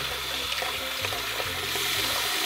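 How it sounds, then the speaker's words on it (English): Water running steadily from a tap to fill a pet hedgehog's bath, a continuous close splashing rush with faint gurgles underneath, cutting off at the very end. "It actually needs more water in there. So I'm gonna fill it up a little bit more"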